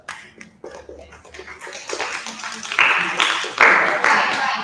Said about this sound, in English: So clap for these two girls